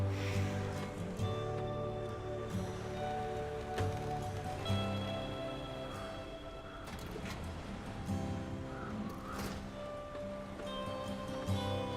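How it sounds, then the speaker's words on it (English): Rain falls in the SnowRunner truck-driving video game, a steady patter mixed with a low engine-like rumble and faint scattered drips, with no voices. "And now it starts raining."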